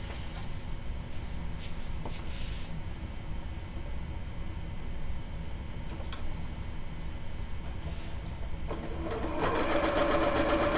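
A sewing machine stitches quilt fabric strips with a continuous fast mechanical whir. It grows louder and brighter near the end as it picks up speed, and it sounds close, with no talking.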